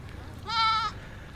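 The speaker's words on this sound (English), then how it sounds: "Check out this little goat here." A small goat gives one short, clear bleat close by over low outdoor background noise.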